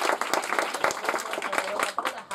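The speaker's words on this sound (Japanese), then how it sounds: "面白かった片方に拍手をお願いします。" A small audience at a comedy match claps, a dense patter of hand claps that stays fairly steady throughout the short stretch and tapers off at the end.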